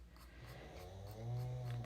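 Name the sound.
snoring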